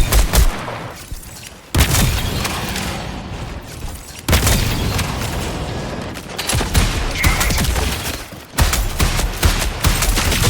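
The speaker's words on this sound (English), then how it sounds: "having Marathon's gun sounds be very normal and grounded was intentional" Loud, grounded automatic gunfire from the Marathon video game, sustained close bursts broken by brief pauses, with heavy booming low end.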